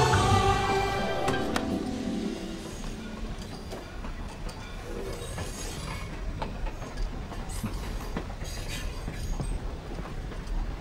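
A train at a railway station rumbles steadily, with rolling wheel clatter and faint metallic clacks continuing throughout.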